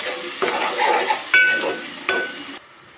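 Onions and leaves fry in a pan with a close, crackling sizzle, interrupted by a few distinct scraping stirs before the sound cuts off abruptly near the end.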